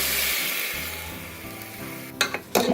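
Mutton in a pot with onion-garlic-ginger paste, sizzling steadily and loudly, then a few sharp metallic clinks and scrapes of a spoon stirring near the end.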